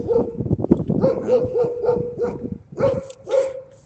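Dogs bark repeatedly and close by in a quick, uneven run of loud barks and yips, with short pauses between bursts.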